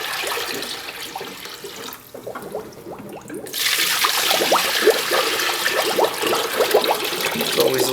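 Liquid yogurt mix pours into the hopper of an OX-850 countertop frozen yogurt machine, a close, loud, gushing splash that builds partway through and then runs steadily, with people talking beneath it.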